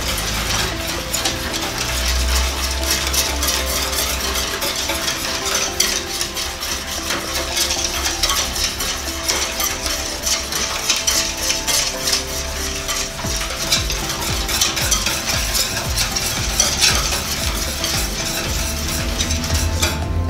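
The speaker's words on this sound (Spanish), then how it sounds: "Lo revolvemos muy bien," Sugar stirred into chocolate cake batter in a bowl gives a steady, close, scraping and ticking rhythm that runs on without a break, with no talk.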